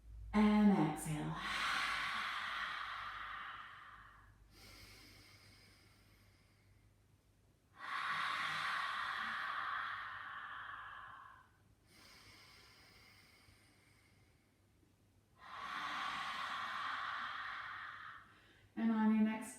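Three long, forceful breaths pushed out one after another during a yoga stretch, each a broad breathy rush lasting a few seconds with quiet pauses between, close and alone, framed by short sharp intakes at the start and end.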